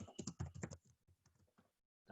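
Rapid typing on a computer keyboard: dense bursts of key clicks, then sparser taps that trail off to a brief pause before another cluster, close and fairly quiet.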